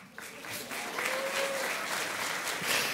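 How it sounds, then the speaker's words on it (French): Audience applause, a crowd clapping steadily and fairly close, rising quickly at the start and holding at a moderate level. "on applaudit le prophète Élie."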